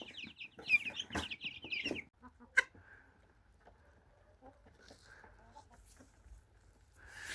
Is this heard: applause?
no